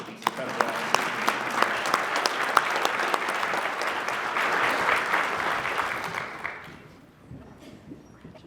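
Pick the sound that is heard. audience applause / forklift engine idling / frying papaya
audience applause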